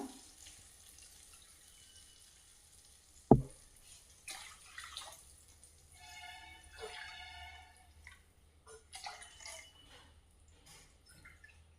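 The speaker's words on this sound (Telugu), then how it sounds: "నేను 6 కప్పుల నీళ్ళు పోస్తాను" Water for wheat rava pulao runs and splashes quietly into a pot in short spurts after a sharp knock, faint and close, with gaps of near silence between pours.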